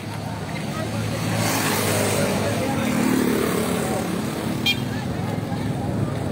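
A motorcycle roars past nearby, its engine noise swelling and fading over a steady roadway hum.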